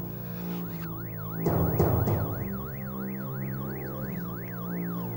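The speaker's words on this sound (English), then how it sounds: "I can hear the sound of a siren." A wailing siren rises and falls in rapid, regular sweeps, moderately distant, with a short burst of louder rumbling noise partway through.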